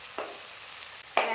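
Onion and tomato fry in a pan while cooking kochuri and alur dom, a steady low sizzle broken by two brief louder bursts of stirring, with no one talking.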